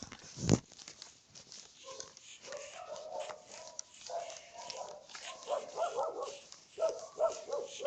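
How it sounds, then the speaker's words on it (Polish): Dogs bark in a Minecraft village at night, a sharp loud bark at the start followed by a run of yips and whimpering barks that continue steadily throughout, with game ambience underneath. "tam też psy szczekają"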